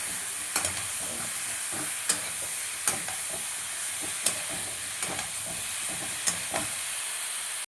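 Masala sautéed in oil in a pan, a continuous bright sizzle with regular scraping strokes of a spatula every second or so, close and steady until it cuts off abruptly.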